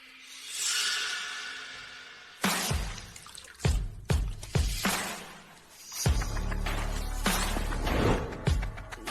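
Hands splash and scoop through a basin of water in a series of uneven bursts, sloshing and dripping close by, with short pauses between the washing strokes.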